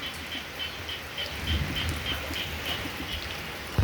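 Heavy rain pours steadily outdoors in a dense, even hiss with soft low rumbles, while faint chirping insects or birds pulse rhythmically in the background.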